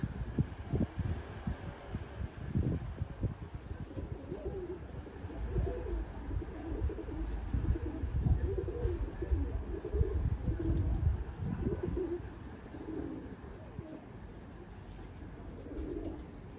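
Tumbler pigeons coo repeatedly near a coop, soft rounded calls in an irregular rhythm over a low outdoor background with occasional rustles and thumps.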